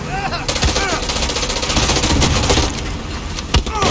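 Rapid automatic gunfire from a gun in the video game Far Cry 6, loud and continuous bursts with sharp cracks and metallic clinks, dense and close throughout.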